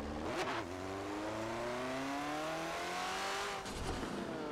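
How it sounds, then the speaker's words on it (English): A race car engine in the Forza 7 video game revs steadily upward through the gears, loud and continuous, with brief shifts punctuating the rising drone. "This car sounds good."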